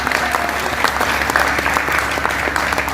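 Steady, dense audience applause at a large Hindi poetry gathering (kavi sammelan) in Bijnor, a full hall clapping together over a low hum.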